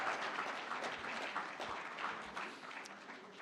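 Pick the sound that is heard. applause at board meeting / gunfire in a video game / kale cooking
applause at board meeting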